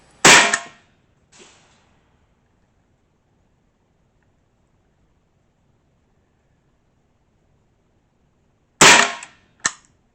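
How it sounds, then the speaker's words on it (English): Stevens Model 87A .22 rifle firing Federal 22 long rifle rounds in semi-automatic mode: two sharp, loud reports near the start, then quiet, then two more close together near the end, each a crisp crack. "I'm firing in semi-automatic mode."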